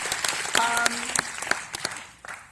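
Film-screening audience applauding after a movie introduction, a round of scattered claps with a brief tonal voice or note over it, tapering off toward the end.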